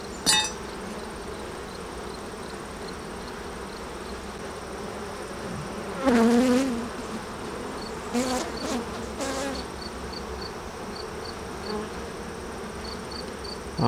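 Honeybees buzz steadily in an open hive during a swarm inspection, a continuous close droning hum, with a few louder passes of individual bees flying near the microphone.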